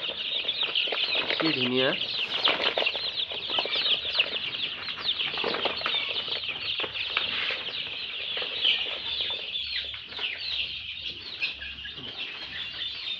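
Chicks of local chickens, all the same size, scramble and flap inside a delivery box, giving a dense, continuous chorus of shrill peeping and scratching, with a brief spoken remark.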